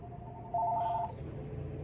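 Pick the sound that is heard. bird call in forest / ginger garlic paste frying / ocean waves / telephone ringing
telephone ringing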